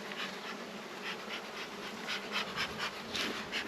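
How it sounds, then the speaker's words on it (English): Honeybees swarm around a hive being calmed with a smoker, a dense continuous buzz of many wings close by with pulsing swells in loudness, no talking. "And like I was saying, Joseph, this smoker's a real important tool to keep the bees calmed down, and it masks the signal that the guard bees"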